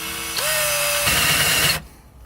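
A power drill bores holes during an ASD hydro install on a Mustang. It revs up with a rising whine, then grinds steadily for about a second and a half before it cuts off abruptly, close and fairly loud.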